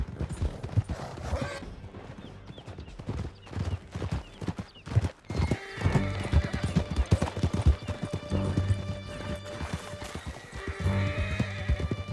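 Horses gallop in Red Dead Redemption 2, with a steady drumming of hooves close by and a whinny in the mix, under intermittent gunshots, with the pace growing busier and denser partway through.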